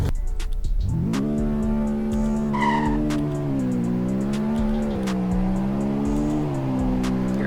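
A sedan in the Roblox game Greenville, with a single muffler and a six-speed manual, accelerates hard, its engine note climbing through rising gear pulls with brief tire squeal, loud and close, no talking.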